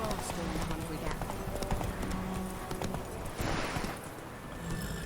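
Hooves clip-clop steadily as the horse Roach gallops in The Witcher 3, a rhythmic thudding under game sounds and a speaking voice, with a brief louder burst partway through.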